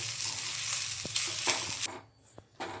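Grated coconut and onion being roasted in a pan over a low flame, a close, steady frying hiss punctuated by a few clinking spatula scrapes, easing off briefly near the end, with no talking.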